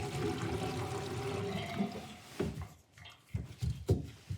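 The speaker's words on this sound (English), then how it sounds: "I'm gonna try plugging the sink and letting a bunch of water down." Water drains from a plugged sink with a steady gurgling rush that breaks into a few louder glugs and sloshes near the end, close and moderately quiet, with no talking.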